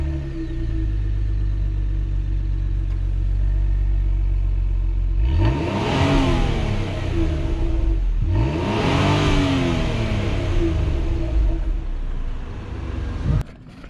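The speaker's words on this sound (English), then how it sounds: "we'll do a little cold start. It's not very loud" Tuned daily-driver car engine fires on a cold start; a starter crank leads into two rising revs that swell and drop back to a steady, fairly quiet idle rumble, with a short click at the end.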